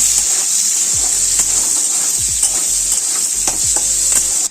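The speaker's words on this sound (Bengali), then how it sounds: "ভালো করে পেঁয়াজটা যতক্ষণ লাল হচ্ছে আমরা ভালো করে ভেজে নেব" Onions fry in a pan with a loud, steady sizzle, broken by scraping stirs about once a second; nobody talks.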